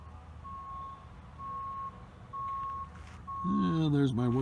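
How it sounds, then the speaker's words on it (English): A work truck on a winery construction site backs up with four evenly spaced reversing beeps, followed by a voice speaking near the end over low engine rumble. "And there's my work truck."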